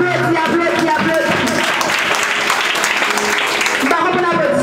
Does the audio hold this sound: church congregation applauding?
yes